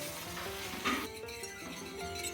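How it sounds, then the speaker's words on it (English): Hot caramel sizzles and bubbles as half a cup of cream goes in and a whisk stirs it hard, a soft, close frying hiss with light scraping, and no voices. "Now I'm adding in 1/2 cup of cream, and it's gonna bubble"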